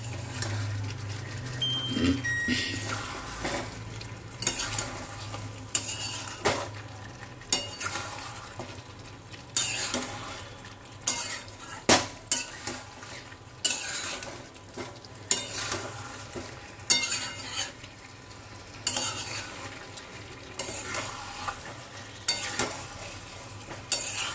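Chicken curry with yogurt and potatoes is stirred in a pot, with repeated scraping and clacking strokes against the metal over a steady low sizzle, close and fairly loud.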